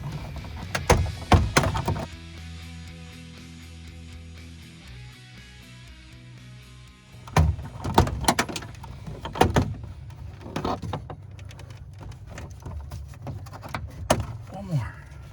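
Door panel being pried and pulled off a Chevy S10 Blazer ZR2, with several sharp plastic clip pops and thunks in bursts, close by, amid softer handling rattles and a quieter stretch between.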